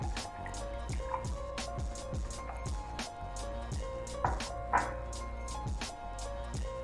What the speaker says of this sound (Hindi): इसके अंदर मैं 5 से 6 आइस क्यूब्स डाल दूँगी और इसके बाद तकरीबन 5 से 6 टेबल स्पून के करीब में ये आड़ू का जूस डाल दूँगी